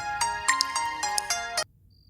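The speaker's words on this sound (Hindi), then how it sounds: "विनय का ही फोन आ रहा है।" A mobile phone ringtone plays a bright, repeating melodic pattern of tones, loud and close, then cuts off abruptly before a brief faint beep.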